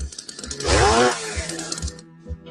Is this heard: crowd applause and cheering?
no